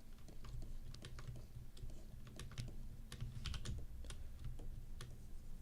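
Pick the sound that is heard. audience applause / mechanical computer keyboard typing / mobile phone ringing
mechanical computer keyboard typing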